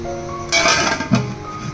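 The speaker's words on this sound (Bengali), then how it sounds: "ঢাকা দিয়ে দিলাম।" A lid goes onto a cooking pot on the stove while pulao cooks with bay leaves inside: a sharp metallic clink, then a second clatter, ringing briefly over a low background hum.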